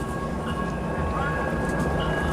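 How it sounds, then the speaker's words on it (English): A train rolls past at a distance, a low steady rumble with faint tonal squeals held under a quiet background. "Hello, train."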